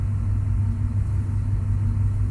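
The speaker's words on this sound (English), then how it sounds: "Do you hear outside? Moving trucks?" Moving trucks rumble outside, a steady low heavy engine drone heard from indoors at a distance, continuous and unbroken for a couple of seconds with no talk.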